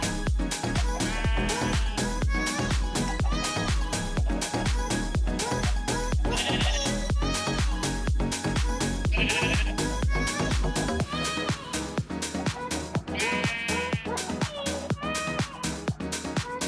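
Sheep in Minecraft bleat repeatedly over loud, dense background music, with several distinct bleats standing out at scattered moments.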